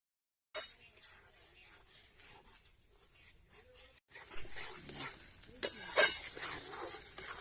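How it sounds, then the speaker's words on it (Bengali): Tomatoes and spices stir-fried in a kadai for a Bengali fish and vegetable curry, with soft scraping and stirring that builds to louder sizzling and clattering in the second half. "টমেটোগুলো দিয়েও বেশ ভালো করে কষে নেবো"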